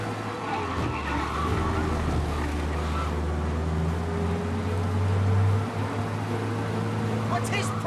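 Car in the video game Mafia: Definitive Edition driving fast to escape police, with a steady loud engine drone throughout and a brief tire skid near the end, heard under game sound.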